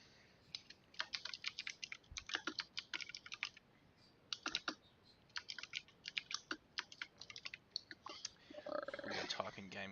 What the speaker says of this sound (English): I have a keyboard that can be heard through the entire house